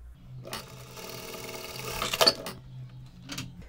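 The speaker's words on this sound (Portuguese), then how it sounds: "Então eu vou vir aqui costurar. Só para fixar mesmo as pregas e elas não saírem do lugar." A sewing machine runs a short burst stitching down the pleats of a cloth face mask, a steady mechanical whir that speeds briefly near the end, with a soft clunk after it stops.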